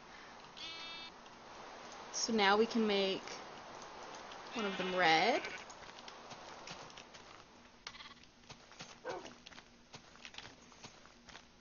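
Sheep in the video game Minecraft bleat in two short, wavering calls close by, with someone talking before and after them and faint game footsteps and ambient clatter underneath.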